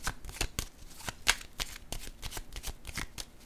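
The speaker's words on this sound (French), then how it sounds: "Je vais déposer une carte sur le paradis." Playing cards handled close up during a card reading, a continuous series of soft flicks, slides and taps with an uneven rhythm, one card set down among them.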